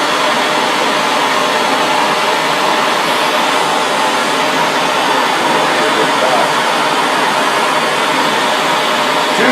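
A torch flame heating a steel knife blade, a loud, constant, close-up roar that holds steady without a break.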